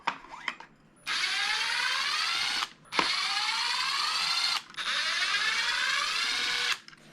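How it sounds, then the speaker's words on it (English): Power screwdriver backing screws out of a Traxxas X-Maxx 8S RC car front bulkhead, three steady whirring runs of about two seconds each with brief clicks and pauses between, close and clear. "And we need to get these screws out."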